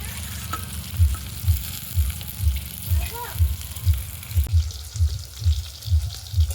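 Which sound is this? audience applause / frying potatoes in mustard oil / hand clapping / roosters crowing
frying potatoes in mustard oil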